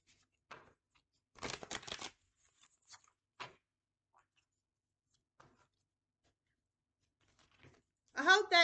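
A deck of cards is shuffled close by in a quick riffle lasting under a second, followed by faint scattered taps and handling noises in a quiet room, with a short burst of voice at the end.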